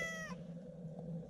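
A house cat gives one short, faint meow at the start, followed by quiet room hum.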